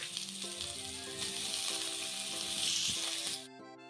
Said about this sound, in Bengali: আমার আলু ভাজা ডান,